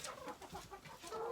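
Hens clucking inside a chicken coop in cold winter weather, several overlapping soft clucks and murmurs from a flock, close but fairly quiet, with no one speaking.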